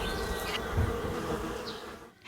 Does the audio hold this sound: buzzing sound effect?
yes